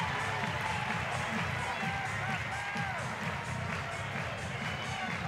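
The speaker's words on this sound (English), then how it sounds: "This crowd is loud, it's roaring" A college softball stadium crowd at a Texas A&M Aggies game roars steadily, with continuous cheering and clapping filling the whole stretch at a distance.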